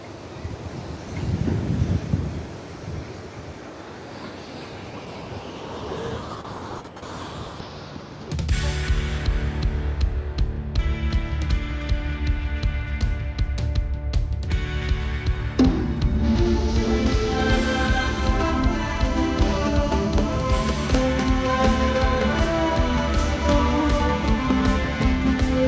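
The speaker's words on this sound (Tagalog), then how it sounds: "And now, ay, alon, ang lakas, oh." Strong surf breaks on Kaanapali Beach, Maui: gusty wind buffets the microphone at first, then a loud, sustained wash of heavy waves rolls in continuously.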